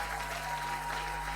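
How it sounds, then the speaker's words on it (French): Church congregation applauding during a charismatic worship service, a steady wash of clapping heard at a distance and fairly faint. "Est-ce qu'on peut acclamer Jésus?"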